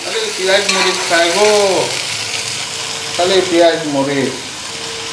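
Spices and bay leaf fry in hot oil in a pan, giving a steady loud sizzle that runs beneath a person talking throughout.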